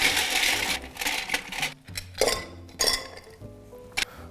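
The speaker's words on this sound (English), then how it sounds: "Grab your ice cubes and integrate it into the mixing glass." Ice cubes dropped and clinking into a glass mixing glass at a Disney BoardWalk bar, with a series of bright, loud clattering clinks and knocks in irregular bursts.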